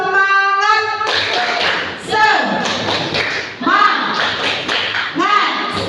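A classroom of students does a rhythmic clapping cheer. Bursts of group claps and thumps come in patterned phrases, mixed with children's chanting voices, close and loud.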